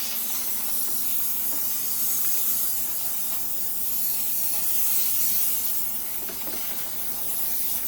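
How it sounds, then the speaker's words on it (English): A Chief Steamer 125 PSI steam wand sprays steam into a door jamb during cleaning, producing a steady, loud, broadband hiss that continues unbroken at close range without any talking. "with the steam wand, we can reach in here a little bit farther"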